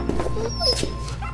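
A cartoon dog whimpers and yips in short, high, plaintive cries over a steady low background hum, close and fairly loud.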